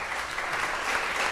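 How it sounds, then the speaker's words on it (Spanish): Audience applause at a talk, steady dense clapping from a crowd throughout, fairly loud and continuous with no voices over it. "les pido un aplauso para Eugenia"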